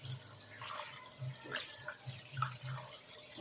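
Raw rice being rinsed under a running faucet, with steady water flow, soft sloshing and a few light splashes close by, no talking.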